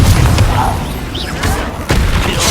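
A Confringo fire spell blasts in Hogwarts Legacy combat, loud booming bursts with crashing impacts packed into a few seconds of dense game noise.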